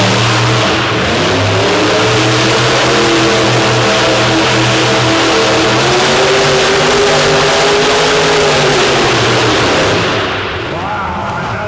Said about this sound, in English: you could hear the massive horsepower inside of that truck